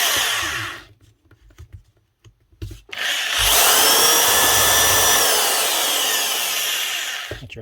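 A Hitachi DV20V2 impact drill whirs in brief bursts, then runs loud and continuous at high speed in hammer mode for several seconds before stopping.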